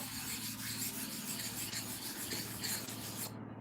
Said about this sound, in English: This is a rotten clipper blade, which I'm going to sharpen very fast.